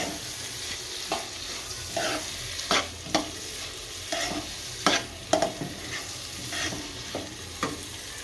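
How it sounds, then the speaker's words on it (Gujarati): Coriander is stirred into moong dal frying in a pan: a steady close sizzle broken by repeated scraping strokes of a spoon against the pan, roughly one every half second. "થોડાક ધાણા નાખશું અને હલાઈ નાખશું ધાણાને"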